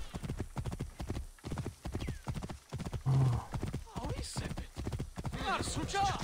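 Rapid clip-clop of galloping hooves with a horse whinnying in the video game Assassin's Creed Origins, heard under continuous talking from a person throughout.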